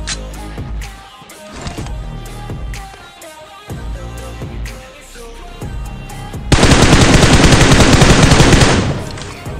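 Rapid automatic gunfire in the PUBG Mobile video game rattles loud and close in several bursts, ending in a sustained, dense volley of shots.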